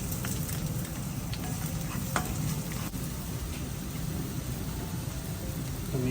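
Garlic and onion frying in oil for Filipino morcon give a steady, fairly quiet sizzle and crackle that stays even throughout, with a few faint clinks and no talking.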